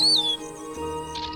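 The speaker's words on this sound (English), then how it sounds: "The dawn chorus, a cacophony of birdsong, is made up of lots of little warriors shouting their war cries." Songbirds calling at dawn, a bright high whistling chirp up front that fades into a softer, steady wash of distant calls over a low background hum.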